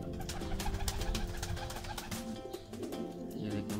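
A fifteen-year-old pigeon coos in low, repeated throaty bursts over a steady background hum, moderately close and with no voices.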